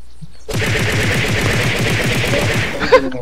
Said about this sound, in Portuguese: tô tomando tiro, não sei de onde